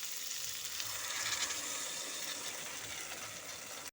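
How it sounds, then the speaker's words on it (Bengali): Steady broad sizzle of potato and cauliflower masala frying in a pan for Bengali niramish phulkopir muri ghonto after water is poured in, continuous and close with no talk, cutting off abruptly at the end. "এখন আমি এর মধ্যে দিয়ে দেব পরিমাণ মতো জল"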